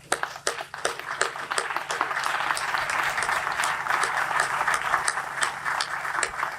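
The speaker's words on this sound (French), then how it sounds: "Je demande à toute l'assistance de se mettre debout pour applaudir chaudement" A standing congregation at an inaugural school Mass claps, beginning with a few loud, separate claps that quickly swell into sustained, dense applause that continues to the end.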